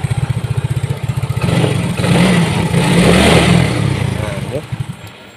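A Yamaha Mio J scooter with an IAPS error sputters to life, chugging in fast pulses before revving up in a loud, close rush, then dropping back to a rough idle.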